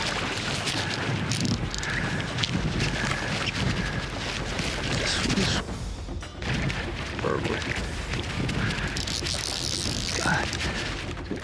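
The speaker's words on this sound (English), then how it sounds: "Man, it's windy" Strong wind buffets the microphone outdoors in Cuba in a steady roar, kicking up dust, with a brief lull midway before the gusting resumes.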